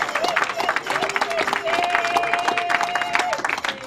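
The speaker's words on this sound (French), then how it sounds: "let's clap for them." Applause for the couple at a wedding: a crowd claps quickly and continuously with cheering and babble mixed in, while a voice carries on speaking over the noise.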